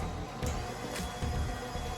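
Cookie dough with vanilla being mixed for chocolate chip and pecan cookies, likely by an electric mixer, as a steady motorized whir with a faint periodic rattle, close and continuous without talk.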